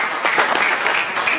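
Congregation applause during an Indonesian church sermon, a short burst of close, fairly loud clapping with voices mixed in.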